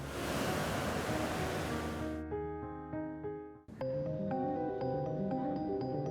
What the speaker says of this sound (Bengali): পুরীর দ্বিতীয় দিনটা এমন করেই শেষ হয়ে গেল ঢেউয়ের শব্দে